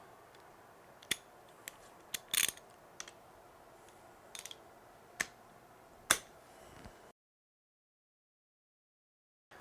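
A ratchet works loose 9/16 bolts from the motor adapter plate of a tamper vibrator, a quiet scatter of sharp clicks and short ratcheting bursts, then silence.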